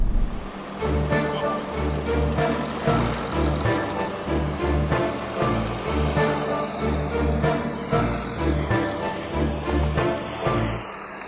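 A 2014 Volkswagen Touareg TDI diesel engine pulls up a steep off-road hill in the Colorado Rocky Mountains, a loud, close, throbbing drone with rhythmic surges as the tires climb over rough ground.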